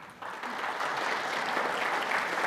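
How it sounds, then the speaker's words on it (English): A conference opening-ceremony audience claps for the event organizers: a full, continuous wash of many hands starting abruptly and holding at a steady level, with no voices heard. "Yes, round of applause."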